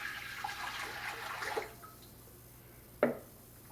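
Water poured into a pot while making keto chili soup, a soft splashing stream lasting about a second and a half, then a brief sharp splash near the end, close and fairly quiet.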